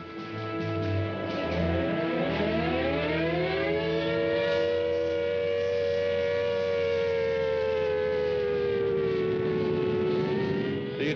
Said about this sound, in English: Everyone waiting for the sirens to start up and then dash off for the shelters.